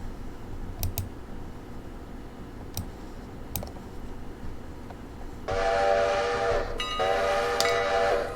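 A train departing a station in the railway game Railroader, with a low rumble, scattered clicks and then a louder whistle-like blast in two bursts near the end.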